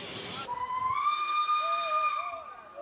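A steam train whistle on a Douro valley railway in Portugal sounds a long, steady, loud tone after a short burst of hissing steam, then fades slightly at the end.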